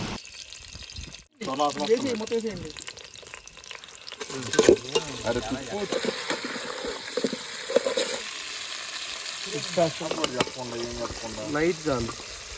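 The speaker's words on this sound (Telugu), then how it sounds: "చట్నీ వచ్చేసి ఇక పొయ్యి మీద చేద్దామని చెప్పి క్యాంప్ ఫైర్ తెచ్చుకున్న" Tomato and green chilli chutney frying in a pan on a campfire stove outdoors, with a steady sizzle and stirring scrapes beneath intermittent talking.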